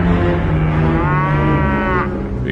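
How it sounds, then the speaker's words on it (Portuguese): Oxen low in a long, loud, sustained call that swells and bends in pitch, close and alone with no talk, near a grain threshing floor. "que pertencia a Nacon, os bois tropeçaram."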